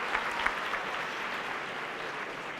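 A convention audience applauds after a keynote speech in a steady, fairly soft patter of many hands clapping, heard from a distance without any voices.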